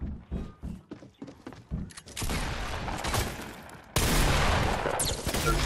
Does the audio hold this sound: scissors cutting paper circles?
no